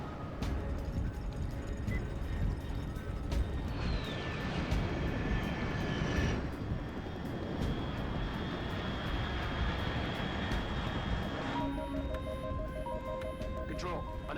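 Aircraft engine roar from Metal Gear Solid Delta, a steady broadband rumble and whine sustained throughout, with a radio voice talking over it and tonal game effects near the end.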